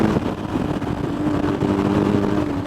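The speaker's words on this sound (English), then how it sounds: "The old Boxer engine goes when you want it to." A BMW 1150 GS motorcycle with a freshly rebuilt boxer engine drones steadily while riding, a continuous low engine hum with wind under it and no speech.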